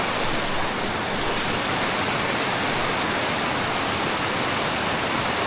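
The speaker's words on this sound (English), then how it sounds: "looks like we made it to the next waterfall" A loud, constant roar of rushing water from a waterfall on a steelhead river, heard up close, steady and unbroken with no voices.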